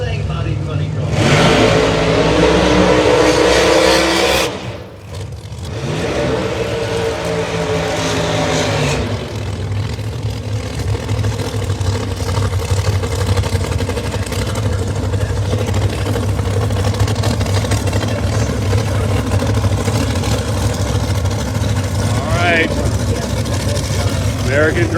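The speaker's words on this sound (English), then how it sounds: "Funny car taking on a Ford Mustang body funny car." Drag racing funny car engines roar at full throttle in a Texas Motorplex outlaw fuel round, one with a Ford Mustang body, a loud sustained blast lasting the whole stretch, with an announcer talking over it.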